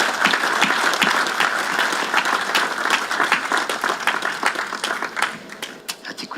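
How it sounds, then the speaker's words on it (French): A church congregation applauds to welcome a family: steady, dense clapping from many hands fills the whole stretch and thins slightly toward the end. "On pourrait les applaudir."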